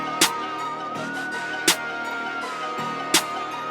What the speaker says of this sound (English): first of all, I've got this clap sound.